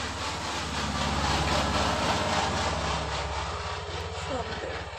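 A sewing machine stitching a dress at home, a rapid, even mechanical chatter of the needle running continuously, close and steady throughout with no pauses.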